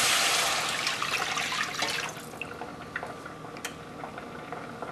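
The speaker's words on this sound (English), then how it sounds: "Adding 3 cups of water." Three cups of water pour into a pot with shallots, garlic and black pepper for polenta, a loud rushing splash at first that thins into softer trickling and bubbling.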